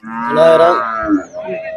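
A dairy cow at the Manapparai cattle market moos loudly and close up, one long low bellowing call followed by a shorter one, with no talk.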